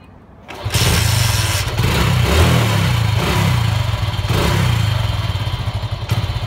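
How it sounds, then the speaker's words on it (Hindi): A motorcycle engine, started without a key, starts up abruptly and idles with a loud, rumbling putter, revving unevenly with a few surges before settling. "बाइक चालू हो जाएगी।"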